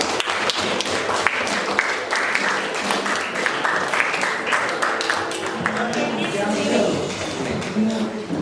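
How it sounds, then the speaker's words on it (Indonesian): A room full of people applauds a group of students after a classroom presentation, steady dense clapping lasting throughout with voices mixed in underneath. "Tepuk tangan kepada kelompok 1 ya."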